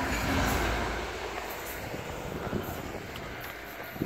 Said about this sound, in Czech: A tento vláček právě jede z Pardubic na Prahu.